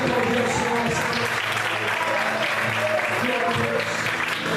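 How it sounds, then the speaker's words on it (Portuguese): Worshippers in a church clap continuously, a broad, constant patter of many hands that holds at a steady level, with voices and low musical tones running under it. "Você pode aplaudir. Exalta a Deus por isso."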